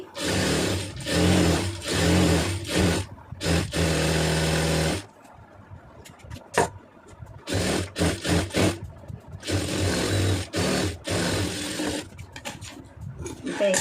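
A sewing machine stitches a round neckline on a garment in fast, loud, steady runs of needle chatter, pausing between bursts while the fabric is shifted, with small handling clicks in the gaps.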